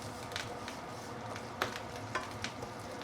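Ginger sautés in sesame oil with a steady, even sizzle, punctuated by a few sharp clicks of a utensil stirring in the pan, with no speech.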